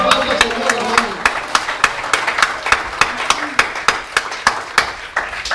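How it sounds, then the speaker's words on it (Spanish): A congregation at a youth church service claps together in a steady rhythmic beat, sharp regular hand claps repeating about twice per second, moderately loud and slightly distant in a reverberant hall. "¿Cuánto le puede dar un fuerte aplauso al Señor,"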